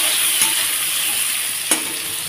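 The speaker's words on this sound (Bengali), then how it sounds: "এখন ফোড়নটা এটা দিয়ে একটু নাড়াচাড়া করে নেব।" Chopped pointed gourd stirred in hot mustard-oil tempering in a pan, a continuous loud sizzle broken by two sharp scrapes of the spatula.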